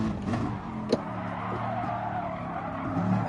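A race car understeering in a Nations Cup racing game, its engine droning steadily while tires scrub and squeal through the corner, with one brief sharp tick partway through.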